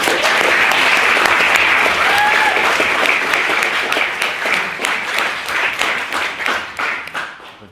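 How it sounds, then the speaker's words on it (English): Audience at a debate bursts into sustained applause, loud and dense at first, then thinning into scattered individual claps that fade toward the end. "they deserve another round of applause"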